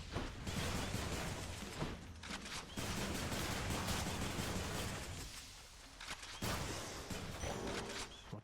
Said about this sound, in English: Explosions and the lightning.